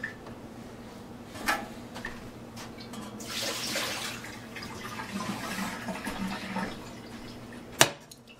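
Water sloshes and pours from a cooking pot into a sink, a broad splashing rush in the middle with scattered drips and a sharp clank near the end, close by.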